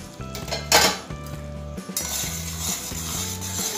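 Peanut powder being stirred into one-thread sugar syrup in a pan for peanut katli: a close metal spoon scrapes and clinks steadily against the pan under a soft sizzle, with no talk.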